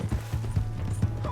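Horse in the Red Dead Redemption 2 video game gallops with rapid, evenly spaced hoof clip-clops close by, with a brief whinny at the end.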